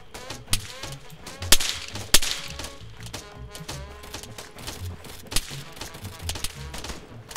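Gunfire in the Arma 3 Wasteland combat game: several sharp, distant-to-mid shots crack out irregularly over a steady low ambient bed, with two louder reports standing out early on.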